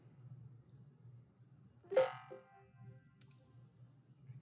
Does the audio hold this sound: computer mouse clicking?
yes